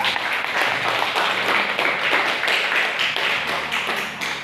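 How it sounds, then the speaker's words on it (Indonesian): A classroom of chemistry students applauding group 2, with steady, dense clapping throughout, loud and close, and no talk over it. "Berikan aplaus lagi untuk kelompok 2"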